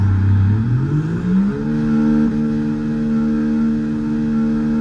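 A Williams FW46 Formula 1 car in the F1 2024 video game revs up in the pits, its engine pitch climbing over the first seconds, then holding a steady, loud whining tone.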